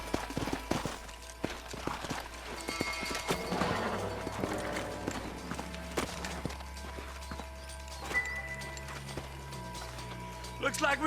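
Horse hooves clip-clop on the ground in Red Dead Redemption, an irregular run of close, hollow knocks mixed with game ambience and voices talking throughout.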